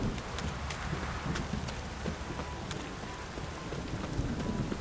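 Steady rain in The Witcher 3, a close, even wash of drops pattering on surfaces, with a faint low rumble beneath and no voices.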